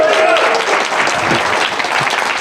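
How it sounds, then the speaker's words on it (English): A panel audience at a comics writing competition gives a loud, steady round of applause, thick and uninterrupted from start to finish, with a brief voice heard at the opening. "Give me a round of applause."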